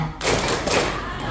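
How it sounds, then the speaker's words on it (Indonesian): A crowd slaps their thighs in unison at a community gathering, a dense burst of thuds starting abruptly and continuing as a sustained, close, loud patter. "Kalau kau suka hati, tepuk paha."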